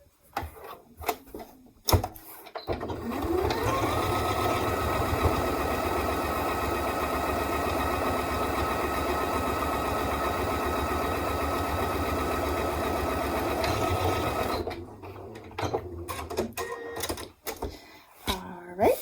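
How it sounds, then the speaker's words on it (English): A sewing machine runs one long continuous line of stitching down the centre of a duffel bag's interior pocket panel, steady and close for about twelve seconds, with brief handling noises before and after. "I'm going to stitch right down the center to reinforce and divide that pocket"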